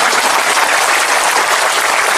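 Dense, loud audience applause during a speech at an Islamic boarding school event, an unbroken wash of many clapping hands with no voices heard.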